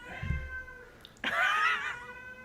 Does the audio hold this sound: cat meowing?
yes